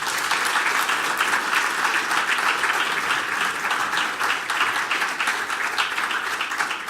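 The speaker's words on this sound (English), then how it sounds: "One more time, a big round of applause for Lord Alton." A dinner audience at the 2018 Royal Cocoa Festival applauds Lord Alton, a loud, sustained wash of many hands clapping that carries on evenly with little talk.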